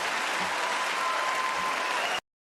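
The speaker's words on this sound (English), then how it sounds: "You're going to get a lot of applause there." An audience at a political debate breaks into loud, dense applause that continues evenly for about two seconds before cutting off abruptly.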